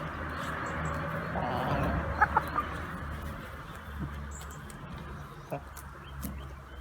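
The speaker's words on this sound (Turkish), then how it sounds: "Biz de horozumuz geldi." Chickens and a rooster cluck softly in a backyard coop near grass, with scattered short calls over a low, steady outdoor background.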